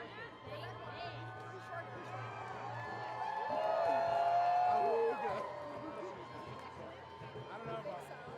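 A crowd at a live fighting event cheers and roars for a champion, swelling to a loud peak midway and then easing off, with voices talking over the noise.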